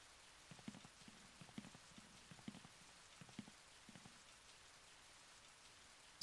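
Rain falls in the PlayStation horror game Twilight Syndrome, a quiet, steady hiss of drops with soft irregular patters and low thumps scattered through the first few seconds, faint and even throughout.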